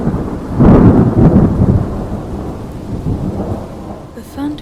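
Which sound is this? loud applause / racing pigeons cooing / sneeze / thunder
thunder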